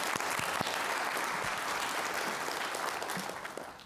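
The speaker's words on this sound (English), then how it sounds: "round of applause for those people coming along" An audience at a developer conference talk gives a round of applause: a thick, even wash of many hands clapping that fades slightly at the end.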